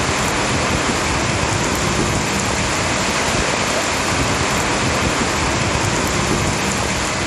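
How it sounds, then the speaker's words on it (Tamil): Heavy rain driven by strong gusty wind over Madurantakam, pouring down on the national highway as a steady, dense, loud roar that fills the whole stretch without a break, with no voices. "சூறைக்காற்றுடன் கனமழை வெளுத்து வாங்கியது"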